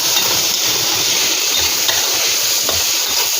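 Meat, onion and garlic stir-fry in a hot pan, giving a loud, continuous sizzle with scraping stirring noises, up close and without talk.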